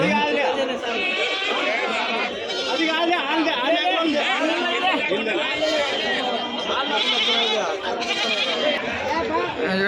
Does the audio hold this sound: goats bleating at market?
yes